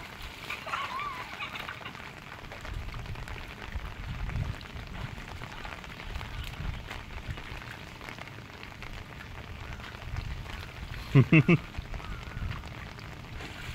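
Rain falls steadily as a soft, even hiss and patter outdoors while children bathe and play in it, with faint voices and a few sharper splashes near the end.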